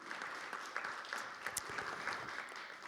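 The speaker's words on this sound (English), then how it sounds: "let's give them a round of applause for being here and taking their time this morning." A legislative forum audience in Reno County, Kansas claps steadily through the whole stretch. The applause is quiet and distant, with a faint murmur of voices underneath.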